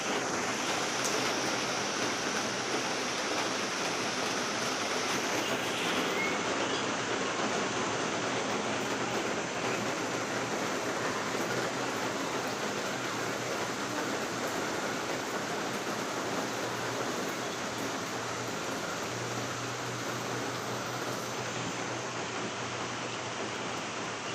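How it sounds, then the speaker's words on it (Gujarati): Heavy monsoon rain, the first of the season, falls as a steady, dense hiss that continues evenly for the whole stretch without any talking. "એટલો વરસાદ સરસ સરસ શરૂ થઈ ગયો હતો"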